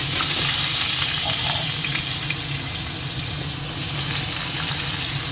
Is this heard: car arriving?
no